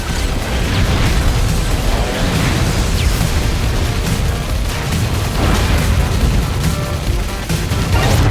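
Constant shooting and explosions in the video game Assault Android Cactus, a dense, loud barrage of rapid gunfire, booms and bursts continuing without a break.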